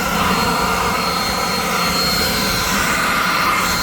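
An Alloyman 40V cordless dual-battery leaf blower runs at full power, producing a loud, steady, jet-like roaring whoosh with a faint whine that holds constant throughout, close to the listener with no voices.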